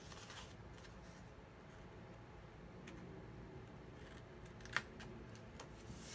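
Scissors snipping paper card during card making, a few faint, sparse cuts with one sharper snip near the end against quiet room noise.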